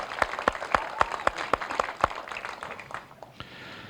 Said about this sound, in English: Officers, it would be our pleasure to give you folks a round of applause.